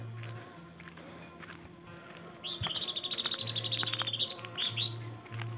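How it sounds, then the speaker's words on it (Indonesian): Birds chirping in a quiet remote Sundanese village on a misty morning, a rapid trilling song in the middle with a few sparse calls around it over a low background hum. "Yang terdengar hanyalah suara burung ya,"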